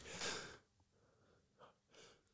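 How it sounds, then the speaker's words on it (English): An odd, strained sneeze from a person with hurting ribs: one loud breathy burst, then softer gasping breaths and a short snort, close and alone. "that was the weirdest sneeze I've ever had to do"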